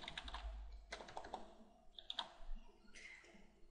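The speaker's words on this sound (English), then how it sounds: "So here in the same box, I just type in where they can find that resource" Typing a web address on a computer keyboard, with a few quick clusters of crisp key clicks close by in irregular bursts over a few seconds, alone without speech.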